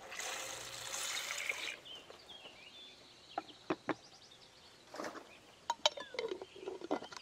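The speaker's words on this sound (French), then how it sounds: "Et on ajoute un peu d'eau" Water poured into a jar gives a short steady pour of under two seconds at the start, followed by quiet background with scattered bird chirps and a few small clicks.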